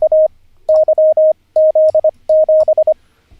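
Morse code tone keyed in the rhythm of a song: loud single-pitch beeps in three clipped groups of short and long pulses, heard alone.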